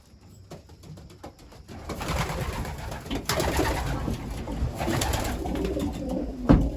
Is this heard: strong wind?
no